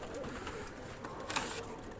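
Pigeons cooing around a pigeon trap outdoors, soft repeated coos under a steady wash of broadband background noise.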